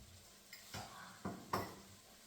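Full-fat mustard is stirred in a hot pan with a utensil, giving a few soft, distinct scraping strokes over a faint sizzle, quiet and close with no voices.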